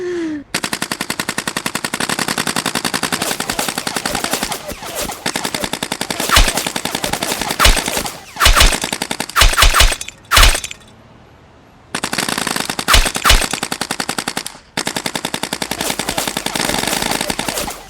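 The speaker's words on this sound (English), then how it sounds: "you can hear the bullets slamming into the flower bed and the tiles breaking" Loud, sustained automatic gunfire in long rattling bursts, with heavy impact cracks as bullets slam into a rooftop flower bed and break tiles, and brief gaps between volleys.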